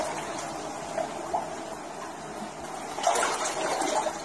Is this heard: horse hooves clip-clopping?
no